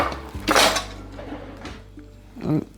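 Metal cutlery clinks and rattles as a spoon is pulled from a utensil holder in a home kitchen, two short bursts of jangling close by, with a faint voice in the background.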